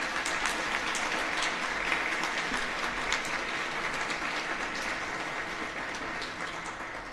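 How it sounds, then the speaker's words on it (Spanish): An audience at the INEHRM 2025 award ceremony claps steadily for several seconds. The applause is a dense, even patter that fills the room and slowly tapers, with no voices on top. "Les pido por favor que les demos un fuerte aplauso."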